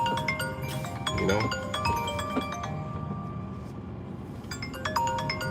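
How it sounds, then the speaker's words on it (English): A phone rings repeatedly, its bright electronic tone pulsing in short bursts, fading briefly midway, then returning over a steady background hum. "my phone is ringing off the hook"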